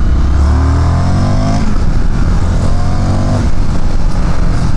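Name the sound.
Indian FTR 1200 S motorcycle accelerating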